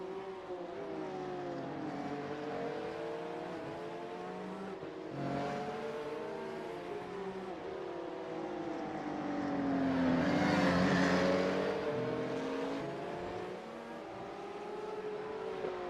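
Porsche 992 cup cars race around the Hungary circuit in a racing video game. Several engines overlap, their notes climbing and dropping through gear changes, and a louder car swells close by mid-way before fading back into the pack.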